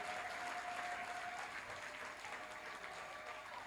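Sustained applause from a church congregation at a Christmas worship concert, steady and dense throughout, with a faint voice or tone lingering early on.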